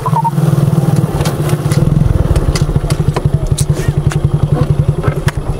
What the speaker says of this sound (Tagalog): Ilayo muna natin itong motor.